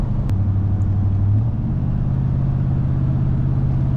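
A 2024 Ford 6.7 Powerstroke diesel pickup with a 587 wheel-horsepower tune hums along in a low, steady engine drone, the pitch stepping up briefly as the truck accelerates under a light tap of the throttle, continuous and without talk.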